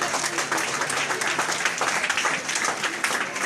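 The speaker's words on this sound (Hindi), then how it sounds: "जोरदार तालियों से स्वागत करें" An audience at a college blood donation camp greets the chief guest with enthusiastic applause, a thick, continuous wash of many hands clapping at close range throughout.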